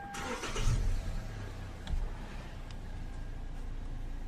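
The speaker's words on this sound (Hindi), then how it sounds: "ये गाड़ी मैं आपको स्टार्ट करके चेक करवा देता हूँ" A Hyundai Elantra with a transmission fault and code P0753 starts up: a short cranking whir catches into a low idle that swells briefly, then settles into a steady hum.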